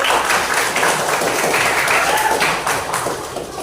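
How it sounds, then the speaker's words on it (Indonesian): Classroom students give dense, continuous applause, many hands clapping together loudly and evenly for several seconds before easing slightly toward the end. "Kasih tepuk tangan dulu"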